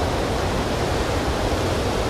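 Steady roaring rush of a waterfall on the river Neb at Rhenass, Isle of Man, a loud, continuous broadband wash of falling water close by, with no voices over it.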